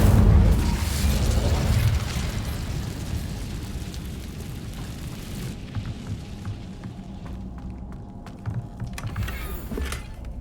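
A fire spell cast in Hogwarts Legacy erupts as a loud, roaring burst of flame that fades over several seconds into a lower, crackling rumble with scattered small pops.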